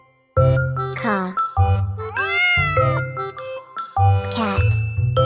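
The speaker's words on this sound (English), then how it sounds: "Cat." Several loud, close cat meows follow one another, each a rising-then-falling wail with bright harmonics, and a strained, higher drawn-out cry falls in the middle of the sequence.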